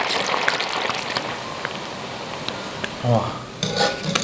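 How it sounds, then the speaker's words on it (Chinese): Unbattered fish pieces fry in hot oil in a wok with a crackling, spattering sizzle and a few utensil clinks. A voice exclaims briefly near the end. "鱼肉直接下锅炸"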